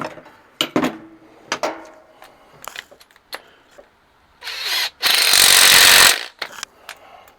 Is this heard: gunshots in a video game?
no